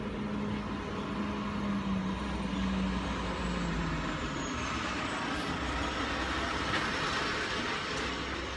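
Estes freight truck pulling out nearby, a loud continuous diesel rumble and road roar with a low engine tone that shifts as it moves off, steady throughout with no talking.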